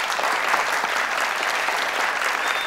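Studio audience on a Family Feud-style game show applauds, a dense, even burst of clapping that holds at full strength throughout the short stretch with no talk over it.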